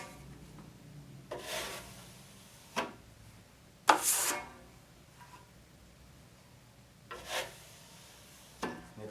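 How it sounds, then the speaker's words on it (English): A drywall knife applies mud to a wall patch and wipes it back off, making several separate scraping, rasping strokes at uneven intervals. Each stroke is close and moderately loud, with quiet pauses between them. "I'm basically applying the mud, wiping it back off, filling any low spots."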